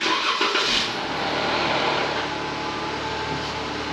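A 2015 Jeep Grand Cherokee engine cranks and catches, then settles into a steady, loud running drone that holds close and alone for several seconds.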